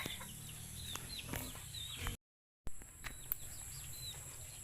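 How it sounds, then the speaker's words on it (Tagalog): Chickens belonging to a farmer in a rural Philippine yard, soft scattered clucks and short calls close by, with faint bird chirps in the background and a brief dropout midway. "Ayan, mga manok ni Papa."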